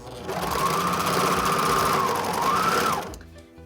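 A sewing machine stitching elastic onto a pleated fabric mask, a close, steady whirring run of rapid stitches lasting about three seconds before stopping.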